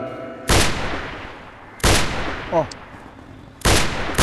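Celebratory gunfire on the eve of Eid in a Pashto village, three loud sharp shots spaced over several seconds, each with a short echoing tail, alongside a brief faint whistle-like sound between them.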